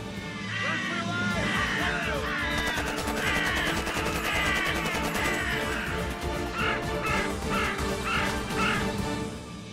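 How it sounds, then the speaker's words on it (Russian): A flock of crows cawing loudly and continuously after being scattered in winter in Volgograd, many overlapping harsh calls in rapid repeated bursts close by. "Ван Дамм только разогнал всех ворон"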